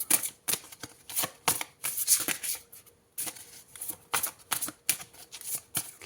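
Tarot cards being shuffled by hand, a run of crisp riffling bursts in quick irregular rhythm, close and fairly loud, with a short pause midway and no talk.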